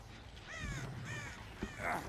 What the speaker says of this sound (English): Why'd that bird just fly away?